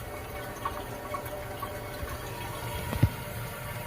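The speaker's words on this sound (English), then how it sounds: "Alright, it's refilling and it's not leaking." A toilet tank refilling through a newly installed fill valve, a steady low rush of water with a few small splashes and gurgles near the end, close and alone.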